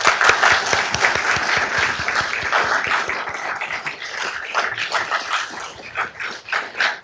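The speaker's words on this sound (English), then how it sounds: "Can we please give everybody a round of applause?" An audience at a city council meeting breaks into sustained applause, loud at first and then tapering into scattered claps, with a dog barking faintly in the background.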